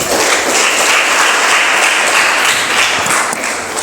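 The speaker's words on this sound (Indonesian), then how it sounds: "Oke, tepuk tangan dulu." A class audience applauds after a group presentation on purification from hadas and najis, with close, loud, continuous clapping throughout.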